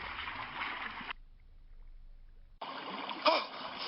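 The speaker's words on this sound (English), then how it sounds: "With a mighty splash, Thomas landed in a pool of water." A toy train engine crashing through a blocked tunnel and landing in a pool of water, heard as a broad watery splash and rush that cuts off abruptly, a gap of quiet, then another burst of splashing water.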